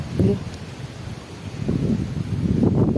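Strong wind buffets the microphone outdoors, a steady loud rumbling roar with gusty swells that grows stronger toward the end, and faint voices can be heard beneath it.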